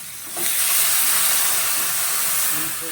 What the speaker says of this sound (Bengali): এখন আমি এবার জল ঢেলে দিলাম।